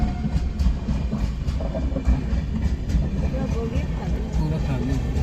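A passenger train on the Puri to Howrah run rumbles steadily along the rails with continuous low clatter and no distinct pauses, loud and close throughout.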